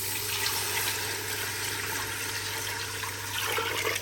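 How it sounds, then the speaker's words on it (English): Lassi pours into pakora batter in a steady, close liquid rush, with a constant hum beneath and no voices. "There we are, we add the lassi."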